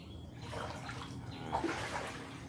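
Flood water pouring into a house kitchen, a continuous faint rushing and splashing flow with no voices over it.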